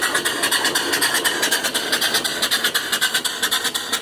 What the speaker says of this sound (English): I'm just using the valve here to get different speed out of it.